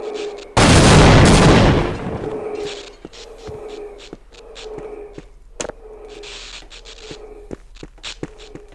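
A loud, close grenade blast in Half-Life: Opposing Force, a roaring burst lasting over a second that fades into quieter game ambience with scattered clicks and footsteps.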